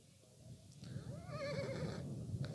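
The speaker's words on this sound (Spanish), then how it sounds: "Los caballos generalmente son animales que no toca tratarlos mal, toca tenerles mucha paciencia" A horse in the Bosque Murillo woods, where horses are being vaccinated, lets out one clear, quavering neigh of about a second, moderately close over faint background noise.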